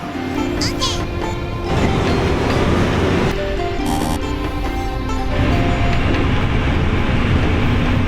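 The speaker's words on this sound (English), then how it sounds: "Extremely modern trains." A modern Beijing metro train rumbles along with a steady roar and some squealing tones, heard from inside or close by, with a voice talking over it.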